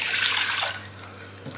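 Water is poured into a strainer to rinse fresh homemade paneer, a brief close splashing rush that softens halfway through.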